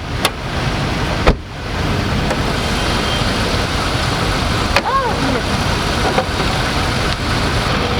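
A 2022 MG ZS T Trophy's 1.3-litre turbocharged three-cylinder engine idling, a steady loud broadband hum and rumble with a few clicks and knocks on top, continuous throughout.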